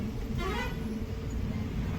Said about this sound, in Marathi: थोडासा हॉर्न मारून घेऊन.